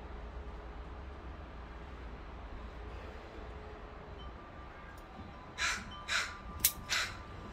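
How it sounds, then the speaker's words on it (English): A crow caws four times in a quick irregular series near the end, loud and close, after several seconds of quiet outdoor background hum. "The little crow."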